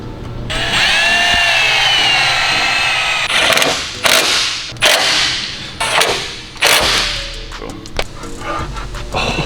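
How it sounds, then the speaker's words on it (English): A power drill boring new holes in a car chassis or bumper area runs in several loud bursts with pauses between them, each burst whining up and cutting off, close to the listener. "let's drill new holes."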